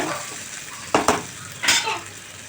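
Onion and tomato soften in a pan with a low steady sizzle, broken by a few short scraping stirs from a spatula, close by and without speech.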